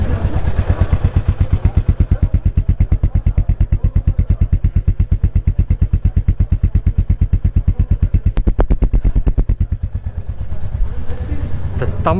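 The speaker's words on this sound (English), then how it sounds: "Now let's try and hear the exhaust note of this bike." A Royal Enfield Meteor 350 idles close by with a deep, evenly paced thump from its exhaust, loud and steady throughout, easing slightly near the end.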